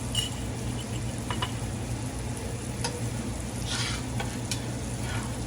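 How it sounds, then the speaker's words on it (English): A flour roux cooks in a pan with a steady, close sizzle and faint occasional stirring scrapes, with no talking. "golden roux right here. We're just gonna let this cook for just a second, just to cook our flour."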